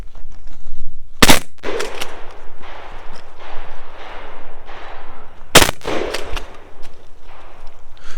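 Shotgun fire at a shooting competition, the shooter using a side saddle and stock shell holder: two sharp, loud blasts several seconds apart over steady outdoor background noise.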